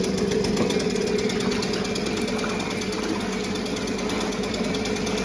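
A Seawalker outboard motor, a small 2.5 to 5 horsepower unit, runs in gear with its throttle raised slightly, giving a steady, rapid mechanical chatter with a faint whine on top, close and continuous, with no voices.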